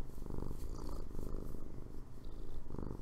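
Close, loud purring from a happy cat, a dense rhythmic rumble pulsing with each breath, swelling and easing in regular cycles with no voices over it.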